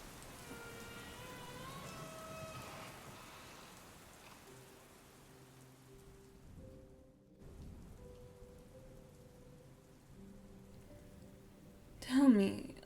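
Steady rain patters on a surface in the background while a voice talks over it and soft sustained tones drift in, ending with a brief louder rustle.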